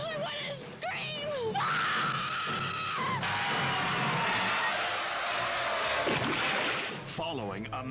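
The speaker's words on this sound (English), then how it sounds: "I want to scream!" A woman screams loudly and at length in a King Solomon's Mines adventure film trailer, with dramatic music and other voices under it, and a short break in the scream partway through.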